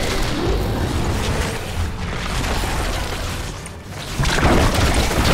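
Explosions from the Heroes of the Storm video game: dense, booming blasts and bursts run almost without pause, loud and close, with a heavier burst swelling near the end.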